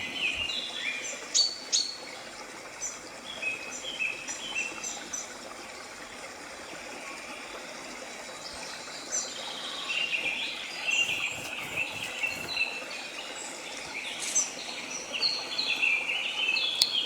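Birds chirp and twitter continuously in the distance outdoors, several overlapping calls over a soft natural background hum.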